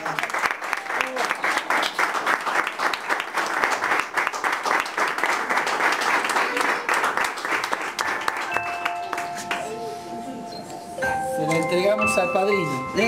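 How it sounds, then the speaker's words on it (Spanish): A church congregation claps loudly and continuously through a child's presentation service, with the applause thinning near the end as music and voices take over. "Un fuerte aplauso,"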